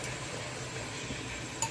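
Water poured from a glass into a cooking pot while preparing biryani, a steady, close splashing hiss that runs evenly throughout with a faint clink near the end.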